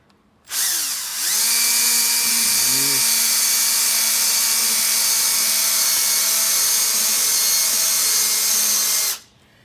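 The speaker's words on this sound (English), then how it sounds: "once you've drilled your 2 holes in there" A power drill whirs up loudly, runs at a steady high pitch drilling holes through wood for a planter box for several seconds, then stops abruptly.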